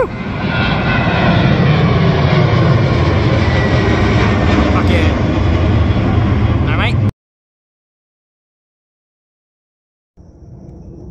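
An airplane passes overhead near Adelaide with a loud, close roar of engine noise that holds for about seven seconds before cutting off abruptly, followed by silence and faint background noise.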